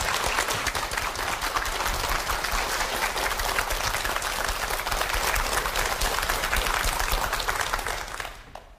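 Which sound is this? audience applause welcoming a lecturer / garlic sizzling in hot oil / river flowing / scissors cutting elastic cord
audience applause welcoming a lecturer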